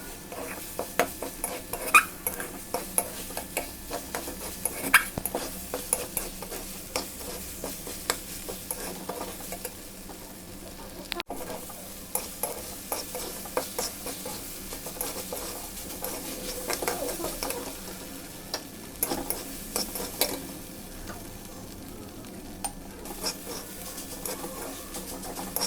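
Fish eggs are stirred in a wok over a low steady sizzle, with soft repeated scraping and tapping of a spatula against the pan throughout, fairly quiet and without speech.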